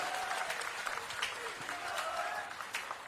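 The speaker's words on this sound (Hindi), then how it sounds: "तालियां कम है भाई, जोरदार तालियां बजनी चाहिए" Crowd applause at a public political event attended by Delhi Chief Minister Rekha Gupta, a steady wash of clapping with a voice faintly audible over it.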